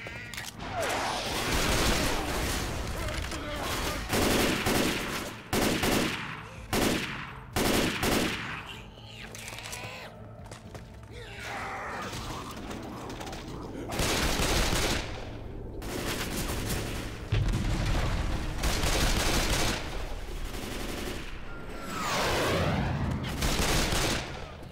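Rapid, dense bursts of gunfire from Left 4 Dead 2 in The Parish campaign, overlapping shots and automatic fire filling the whole stretch with brief lulls, loud and close.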